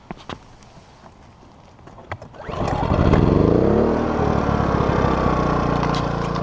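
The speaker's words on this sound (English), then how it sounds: "we'll fire up the generator without a load first, record the decibels" DuroMax XP2000is inverter generator with no load pulling to a start after a few faint clicks, its engine climbing in pitch and then settling into a steady, loud, close running drone.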